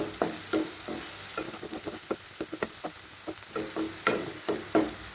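Sliced onion sautéing in a pan for a capsicum onion curry, a crackling sizzle broken by repeated stirring scrapes and spatula taps at an uneven rhythm, close up and alone.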